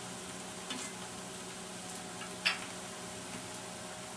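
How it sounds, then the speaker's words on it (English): Onions browning over medium-high heat in a pan, giving a faint, steady sizzle with a couple of soft clicks from stirring, quiet and without speech. "Say to put them over medium-high heat, letting it brown, stirring frequently."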